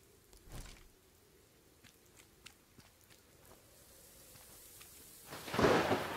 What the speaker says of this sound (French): Oh, il y a de l'orage, ça fait peur.